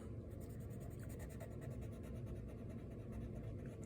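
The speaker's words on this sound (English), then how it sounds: "And using colored pencils, just plain old colored pencils." Soft, continuous scratchy strokes of colored pencil rubbing across paper, close and quiet, with no talking.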